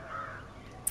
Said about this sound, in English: Birds sound pretty.